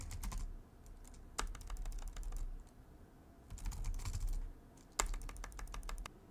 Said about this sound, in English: Or I can just type a normal search string.